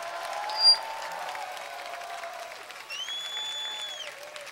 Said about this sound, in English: let's give them all a massive round of applause.